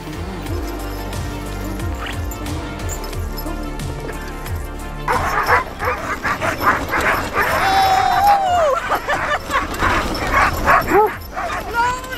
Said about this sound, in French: petite sortie avec les chiens de traîneau